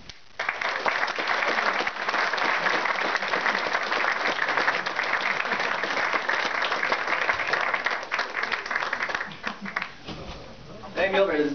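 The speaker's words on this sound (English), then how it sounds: "Big round of applause" Sustained audience applause at the New York Videogame Critics Circle awards ceremony, a dense roar of many hands held at full strength for several seconds, thinning near the end as a voice speaks over it.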